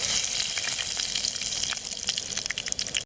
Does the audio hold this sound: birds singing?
no